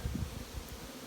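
Worker honey bees on a hive frame in a colony with laying workers, a steady close buzzing hum of many bees, soft and continuous with faint rustling.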